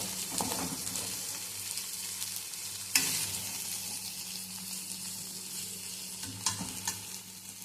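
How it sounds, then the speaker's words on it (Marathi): A ladle stirs spinach with crushed peanuts as the vegetable fries in oil, giving a soft, steady sizzle with scraping strokes and a few sharper clinks against the pan, fairly quiet and without voices. "तेल सोडून घेऊयात 1 पळी आणि भाजी छान हलवून घेऊयात"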